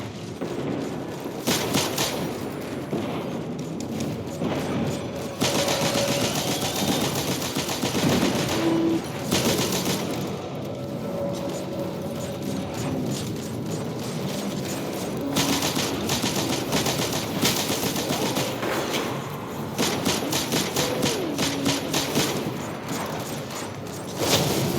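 Enemy gunfire in Destiny 2, including a spider tank, rattles in dense rapid bursts with several short pauses, loud and continuous with no voices.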